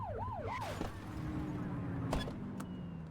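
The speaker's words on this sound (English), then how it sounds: "Get behind them and blip the siren to make them pull over." A police car siren in the video game The Precinct gives a short rising-and-falling wail, a couple of quick sweeps and then a brief blip, over a steady engine and traffic hum.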